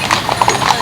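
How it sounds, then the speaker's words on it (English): Decked-out parade horses clip-clop past in a quick run of hoofbeats on pavement, close and fairly loud, with crowd noise and talk in the background. "Oh, the best decked horses I've seen yet."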